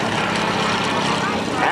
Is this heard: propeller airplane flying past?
yes